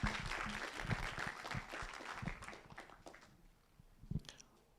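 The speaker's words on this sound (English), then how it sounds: "just give a round of applause" A small group claps briefly after a presentation, the clapping fading out after a few seconds, with one last faint clap near the end.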